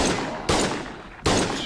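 Gunshots in the video game Schedule 1: three sharp, loud reports spaced under a second apart, each trailing off quickly, with no talking.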